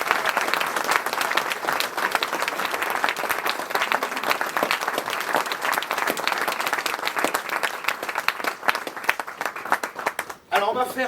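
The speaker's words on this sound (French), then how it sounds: "je pense qu'on peut les applaudir bien fort" Steady, dense applause from a theatre audience honouring amateur actors after a stage performance of a Marcel Pagnol work, sustained at an even level for the whole stretch before briefly dipping near the end, with a voice appearing at the close.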